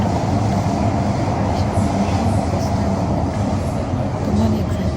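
A Singapore metro train carries riders along with a steady, loud low rumble and whir of the carriage in motion, constant throughout, with faint voices mixed in.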